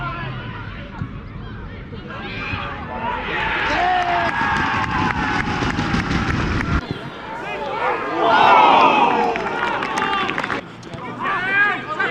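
A few hundred spectators at a non-league football derby between Alton Town and Farnham Town make a steady hubbub of chatter and shouts at a small ground, swelling at times with cheers, while commentators talk over it.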